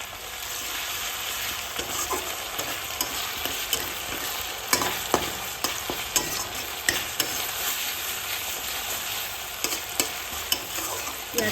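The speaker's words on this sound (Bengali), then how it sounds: "যতক্ষণ না গলবে পেঁয়াজ ততক্ষণ কিন্তু ভেজে যেতে হবে।" Onions and spices fry in hot oil in a kadai while being stirred, with steady crackling sizzle and repeated scraping clicks of the spoon against the pan throughout.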